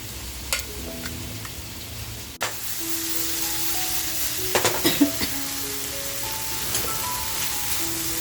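Fish pav bhaji mixture fries in a pan with a steady, close sizzle that runs throughout, joined by occasional stirring scrapes and a sharp clink near the start.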